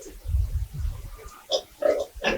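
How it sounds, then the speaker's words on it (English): Pigs on a pig farm grunting low and close in a rough run, then breaking into several sharp, loud squeals in quick bursts. "people are stealing your pigs because they really make noise"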